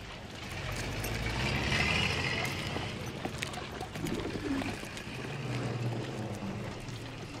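Pigeons cooing softly in a wartime setting, faint and low against a constant rushing background noise, with a brief clearer coo near the middle.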